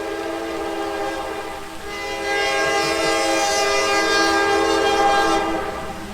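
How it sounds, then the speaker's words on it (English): A train horn blares in a sustained, steady tone, growing louder midway and holding over the rumble of a passing train, with no voices. "train decided to go by and had to blow his horn the whole way through"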